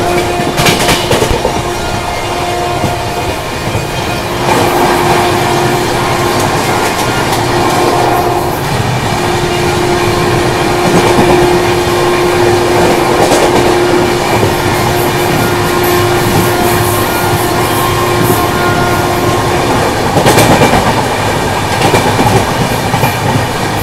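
Rajdhani Express rolling at speed while overtaking the Kalinga Utkal Express, a steady loud rumble of wheels on rail with rhythmic clickety-clack and a sustained tonal whine running throughout, no voices.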